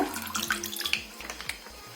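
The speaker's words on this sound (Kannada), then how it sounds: "ಈ ಕವರನ್ನು ಕ್ಲೀನ್ ಮಾಡಿ ಒಂದು ಅರ್ಧ ಲೋಟ ನೀರು ಹಾಕ್ತಾ ಇದ್ದೀನಿ ಇದಕ್ಕೆ" Half a glass of water pours in a thin splashing stream into an emptied plastic milk packet, trickling and gurgling close by, fading slightly toward the end.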